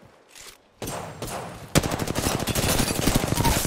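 Rapid automatic gunfire from a squad-based shooter video game, starting as scattered shots and building into a dense, loud, continuous burst of rattling fire.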